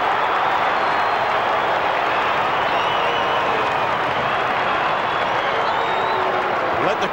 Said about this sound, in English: Brisbane Lions fans here at the MCG this afternoon cheering on their champion in Richard.